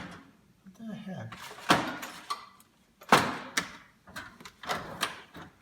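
Rummaging through workshop drawers in search of a countersink: a run of wooden knocks, slides and clunks with sharp bangs, close and moderately loud.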